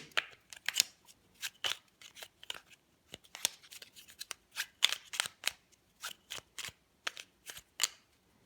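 Rapid clicking and clattering of small hard board game tokens being shuffled together, in quick irregular bursts close by, with no voices.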